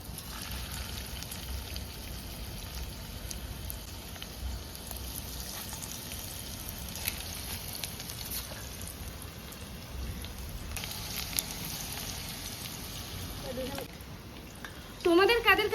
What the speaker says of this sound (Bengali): আমরা এখন মাছের তেলের বড়াগুলো অল্প অল্প করে ছাড়বো